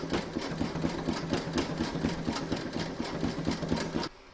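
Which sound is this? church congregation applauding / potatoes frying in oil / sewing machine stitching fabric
sewing machine stitching fabric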